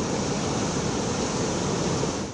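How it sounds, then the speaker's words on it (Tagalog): Strong, high waves pound the shore during Typhoon Marce in Gonzaga, Cagayan, heard as a loud, continuous broadband roar of surf and wind with no pauses and no voices. "Malalakas at matataas pang alon sa baybayin."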